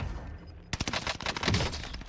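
Rapid bursts of gunfire from a Cooper carbine in a first-person shooter game, a quick string of sharp close shots after a brief quiet start, with no talking.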